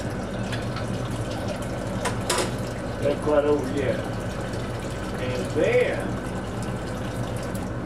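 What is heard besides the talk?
water being poured over cucumber rings for pickles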